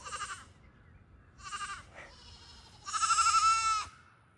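A goat bleats in loud, wavering cries, three separate calls with short pauses between, the last one longest and strongest, close to the listener with nothing else around.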